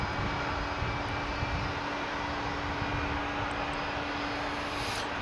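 Jet airliner engines at Dallas/Fort Worth Airport give a steady, broad roar that holds at an even level throughout, with no talk over it.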